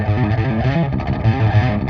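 Electric guitar on a clean amp preset from a metal tone pack, strummed chords ringing steadily and fairly loud, with no voices over it.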